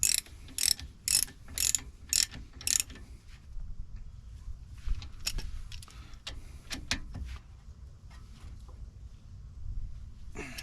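Hand ratchet with a 14 mm socket snugging a brake caliper bolt on a 2011 Nissan Altima 2.5 SL, six crisp rapid clicking bursts up close, then quieter scattered clicks and faint handling noise.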